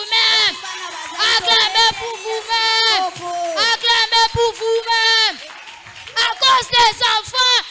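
Children at a church service cheer and shout in bursts, loud and close, with short pauses between rounds of excited voices.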